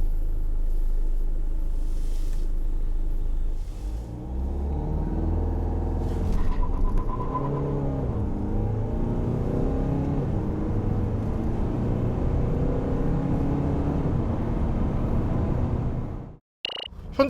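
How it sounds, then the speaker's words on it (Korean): Kia Carnival 2.2 diesel minivan pulling away hard from a standstill, a deep cabin rumble that rises in pitch through the gears. The engine drone climbs and resets several times, then cuts off with a brief click at the end. "자, 발진 가속 성능은 어떤지 한번 볼까요?"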